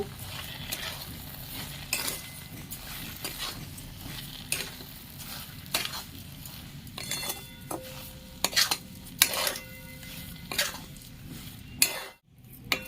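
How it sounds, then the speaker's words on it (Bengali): A spoon stirs a mixture of coconut milk and palm pulp in a pan for a Bengali pitha, with steady scraping and scattered metallic clinks over a low simmering hiss, close by and without speech. "এই অবস্থায় আমি কিছুক্ষণ নাড়াচাড়া করে নিচ্ছি"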